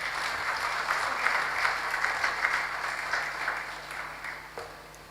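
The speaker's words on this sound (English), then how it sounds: "I think we can make the applause warmer." Applause from the audience at a survey launch event in Nigeria, a fairly soft, steady wash of many hands clapping that swells slightly and then thins toward the end.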